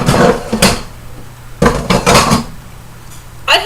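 Pots, pans and lids clatter and clank in a kitchen during rummaging for a lid, in several sharp metallic bursts separated by short pauses, with no talk.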